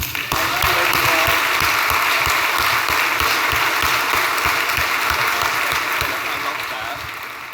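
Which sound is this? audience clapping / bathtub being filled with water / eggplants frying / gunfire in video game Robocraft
audience clapping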